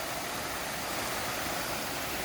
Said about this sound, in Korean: 이제 물소리가 들리기 시작합니다.